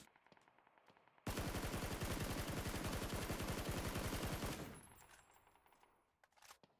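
Automatic gunfire in an online role-playing shooter game, a sustained rapid burst of shots lasting about three seconds, loud and close, trailing off into quieter echoes and handling noise.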